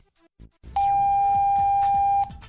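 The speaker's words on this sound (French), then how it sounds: "Le clavier émet un bip." A Diagral alarm keypad gives a single steady beep on power-up after batteries are inserted, holding about a second and a half, loud and close, after a few brief soft clicks.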